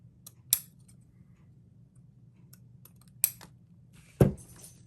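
Three sharp snips cut a Christmas gnome plaque decoration from Dollar Tree supplies, with short crisp clicks spaced apart over quiet background hum, the last snip loudest and closest.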